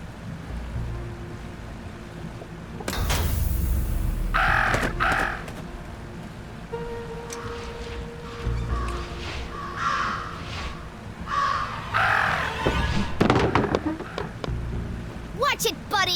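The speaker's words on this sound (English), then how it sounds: "Talk about a murder of crows." Crows cawing by a lake in the video game Jenny LeClue, several harsh caws scattered across the scene amid water ambience and other game sounds, with voices talking in between.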